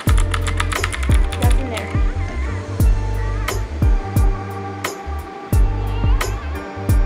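Steady typing on a Royal Kludge wireless keyboard, rapid bursts of close, sharp key clacks with brief gaps, loud and alone with no voices.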